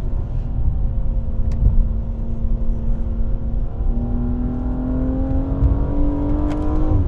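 A 440 hp BMW M235i with a Dinan S3 tune drives along a winding road, its engine droning loud and close from inside the cabin with gradual rises in pitch under heavy road rumble.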